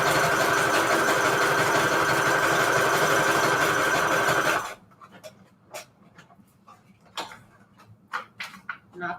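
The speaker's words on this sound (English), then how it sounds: "Let's sew this up. So zigzag, stitch on the edges." A sewing machine runs a zigzag stitch along the edges of a Christmas book-page junk journal pocket, whirring loud and steady for about four and a half seconds before stopping, followed by quiet scattered clicks and handling noises.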